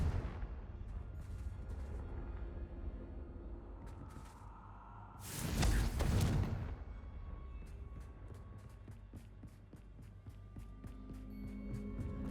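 Confringo blasting spell cast in Hogwarts Legacy: a loud, broad fiery burst lasting about a second, rising above steady game ambience and followed by a string of light ticking clicks.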